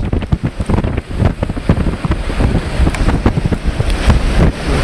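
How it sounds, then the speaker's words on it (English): Waves rolling in at a dock in extreme weather, with heavy wind buffeting the microphone and spray splashing in irregular bursts, loud and continuous throughout. "The waves are rolling in here"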